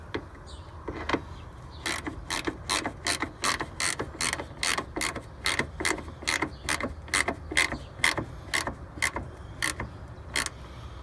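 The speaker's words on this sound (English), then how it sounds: "I got my hand like on this part of the ratchet, so it really makes it difficult to over torque it." Ratchet wrench snugging a bolt into plastic on a broken-down vehicle, a regular series of about twenty close, crisp clicking bursts in steady rhythm, with no talking.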